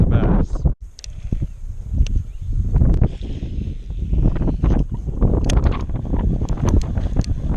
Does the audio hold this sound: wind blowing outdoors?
yes